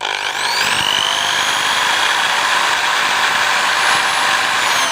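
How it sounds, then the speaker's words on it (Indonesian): A power drill bores steadily into a part of a homemade honey pump machine for stingless-bee honey, giving a loud, continuous high whine with no pauses. "nah sekarang kita akan bor di bagian sininya."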